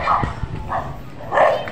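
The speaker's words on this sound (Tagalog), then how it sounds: "May aso." A dog barks several times nearby, with three distinct woofs spaced across the moment and outdoor background noise between them.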